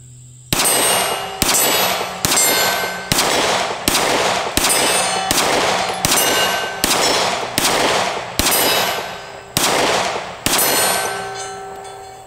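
Shots from a Keltec P15 pistol strike a steel cowboy target at a range, about a dozen sharp reports in a steady rhythm, each followed by a bright metallic ring that hangs briefly before the next, loud and close with no talking.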